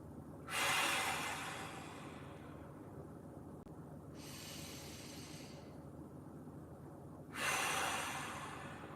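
Three big deep breaths during a mobility workout, each a broad airy rush of air, the first and last louder and longer, over a steady low background hum.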